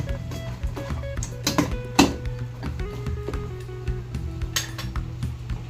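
A spoon stirs goat kaldereta in a metal cooking pot, making irregular clinks and scrapes against the pot, close and moderately loud over a steady low hum.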